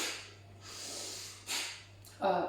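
Bhastrika yogic breathing: a few sharp, forceful nasal inhales and exhales in quick succession, close up and breathy, ending on a harder, snort-like burst.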